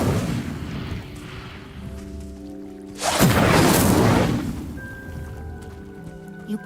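A fire spell cast in the Hogwarts Legacy video game bursts out as a sudden whooshing roar of flame that swells and fades over a couple of seconds, set between soft tonal game music and ambient hum.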